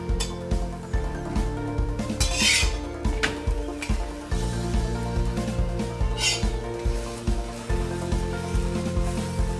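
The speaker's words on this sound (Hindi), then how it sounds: "कॉर्नर को ऐसे चम्मच से दबा दबा कर हम सेकेंगे ताकि कुछ भी कच्चा ना रहे।" A roti for an egg kathi roll sizzles on a hot griddle while a spoon presses and scrapes it in a repeated rhythm, with metallic taps and steady frying hiss, close and alone.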